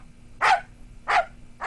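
A dog barks twice, each a short sharp bark spaced well apart, loud and close against a quiet background with a faint steady hum and no talking.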